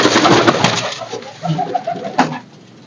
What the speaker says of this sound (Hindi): मैं आपको कबूतर दिखाता हूँ कुछ